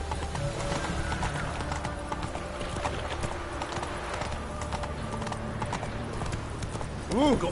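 Roach, a horse in a video game, gallops with steady, rapid hoofbeats close by throughout, and a short whinny-like call rises near the end.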